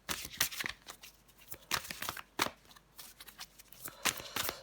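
Tarot cards slide and flick against each other as one is drawn from the deck, a quiet series of sharp papery snaps and rustles in an irregular rhythm.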